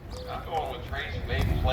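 Racehorses at Sam Houston Race Park on Texas Champions Day give a horse snort and soft hoof clip-clops, with people talking throughout and louder crowd bustle near the end.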